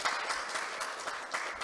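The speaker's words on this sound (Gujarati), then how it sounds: "તાળીઓથી વધાવો" Audience applause at a spiritual discourse, a steady wash of many hands clapping together throughout, moderately distant and with no talk over it.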